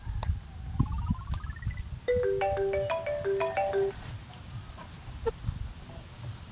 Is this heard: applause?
no